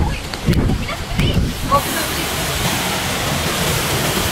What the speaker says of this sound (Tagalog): Welcome to Aliwagwag Falls